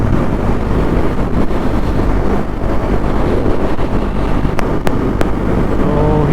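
Loud, constant wind roar buffeting the microphone on a motorcycle ride on a cold day near a lake, with low rumbling road and engine noise underneath and a few faint clicks.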